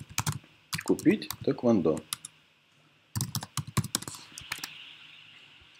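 Quick bursts of computer keyboard typing as a search query is entered, clusters of crisp key clicks in two separate runs, with a person speaking in between.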